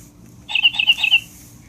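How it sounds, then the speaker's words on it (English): A short electronic bird chirp plays from a Disney Princess toy tablet, a quick burst of about five bright tweets, loud and close, then silence. "That's the bird chirping."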